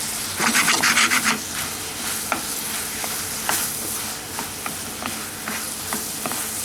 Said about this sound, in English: So we're just softening those apples up now.